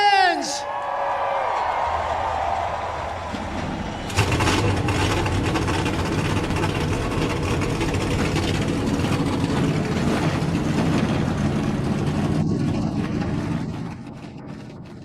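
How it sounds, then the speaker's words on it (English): Stock car engines in the NASCAR Racing 2003 game fire up together at Bristol for the Food City 500, a brief starter whine followed by a loud, sustained low rumble of many idling engines that continues to the end. "Drivers, start your engines!"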